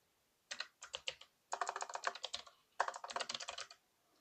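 Computer keyboard keys pressed in quick bursts of clicks, close and clear, with short pauses between runs during accounting software data entry.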